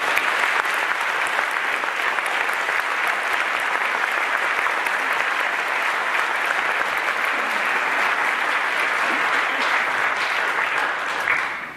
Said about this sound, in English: Let's give a round of applause for all